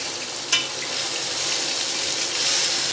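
Spices and tomato fry in hot oil for a karela onion dish, making a steady, loud, close sizzle with a brief stirring clink near the start and no talking.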